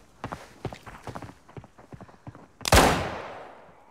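A revolver fires a single loud, sharp shot in the Arena Breakout video game, following a stretch of quick clicking and handling sounds, with the report decaying over about a second.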